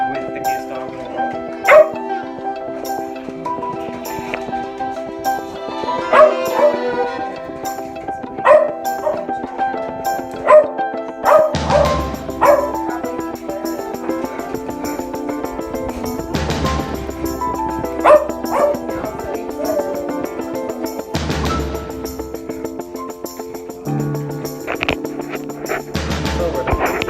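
Dog giving repeated sharp barks and high yips in scattered bursts, close to the microphone, with a person talking at times between the barks.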